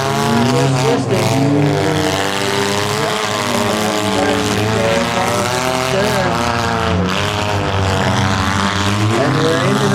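Race cars roaring around a figure 8 demolition derby track at Bolton, engines loud and continuous with rising and falling revs, under a commentator's excited talk.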